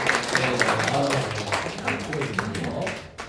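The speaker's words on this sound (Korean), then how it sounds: "다시 한번 큰 박수 부탁드리겠습니다" Lecture audience applauding, a dense wash of many hands clapping at moderate distance, steady for a few seconds before thinning out at the end.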